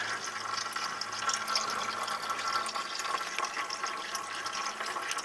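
Coolant pouring out the bottom of a 2001 Lexus LS430 radiator, a steady trickling, splashing stream heard close and fairly quiet throughout.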